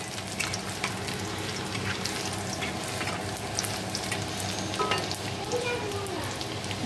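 Garlic sizzles in hot oil in a pan for tadka dal, a steady close frying hiss with faint crackles that runs unbroken and alone, with no talk over it.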